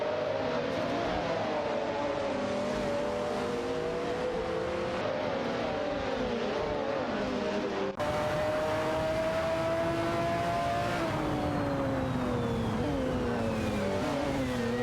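Race cars including a McLaren F1 and a Lamborghini Diablo GTR battle in a video game race, engines droning and shifting pitch continuously at close range, loud and steady with no voices.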